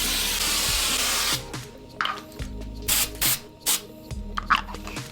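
Canned haze aerosol sprayed into a room, a long close hiss followed by several short bursts and sputters of spray, loud and alone with no talking.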